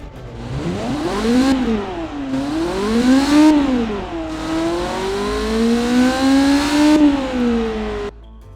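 A synthesized sports car engine in BeamNG, built in Automation for a 2020 light sports car, revs up and down in a series of rising and falling whines, loud and steady, with no voices.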